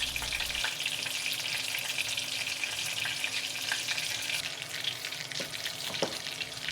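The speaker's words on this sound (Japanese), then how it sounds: "2回目からは火加減をもっと弱めて揚げてみた。" Bite-sized pork cutlets (tonkatsu) deep-frying in oil over lowered heat, a steady soft sizzle and bubbling throughout with a few small pops, no talk.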